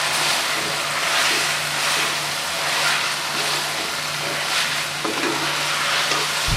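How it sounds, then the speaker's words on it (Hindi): Capsicum, cabbage and potatoes frying in a pan give off a constant, loud, close sizzle with a faint low hum beneath and no speech. "शिमला मिर्च को अच्छे तरीके से मिक्स करके फ्राई करेंगे।"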